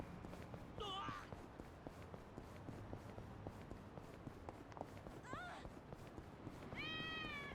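Cat meows in the video game Yakuza: Like a Dragon: three short, clear meows spaced across the stretch, heard over steady in-game ambience with soft footstep-like ticks.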